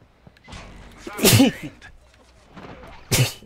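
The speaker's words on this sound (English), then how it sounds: "Oh gosh, I'm sneezing." One sharp sneeze bursts out after some faint murmuring, followed moments later by a second short, forceful burst.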